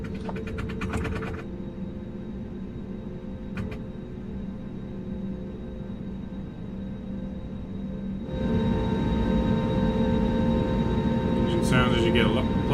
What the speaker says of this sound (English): Engine sounds as you get closer,